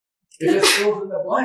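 A sneeze bursts out close and loud partway through a university architecture talk, with the lecturer's voice continuing right over and after it.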